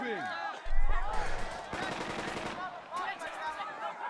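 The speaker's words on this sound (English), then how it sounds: "that machine gun is not fine" Bursts of machine gun fire crackle in the WW2 leadership game Burden of Command, rapid rattling volleys that come in close and loud, with a voice talking over them.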